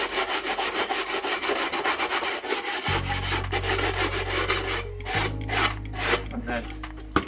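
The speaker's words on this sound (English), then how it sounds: "So I just got some sandpaper and just basically give it a quick little, it makes a bit of a mess" Sandpaper rubs back and forth on the sawn edge of a wooden floor board in a Ford Transit van conversion, a close, steady rasping stroke rhythm with a low hum entering partway through.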